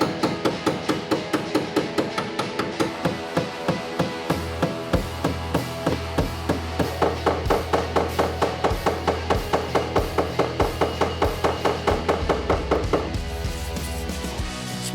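A non-metal hammer knocks a dent out of a classic car's body panel, striking in a steady, rapid run of sharp repeated blows through the whole stretch, loud and close with no talk.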